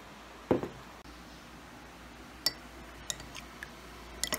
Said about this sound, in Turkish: bu şekilde 1 dakika kadar karıştırıyoruz